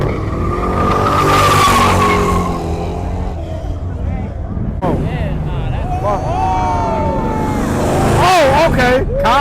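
At a car meet, a car does burnouts and donuts, its tires screeching in long sustained squeals over a revving engine, loud and close, while people talk in the crowd.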